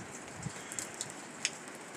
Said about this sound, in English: The rain is to clear here shortly